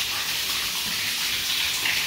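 Water drains steadily out of a large kitchen sink basin as the last of it runs off, a continuous close hissing gush with no talk.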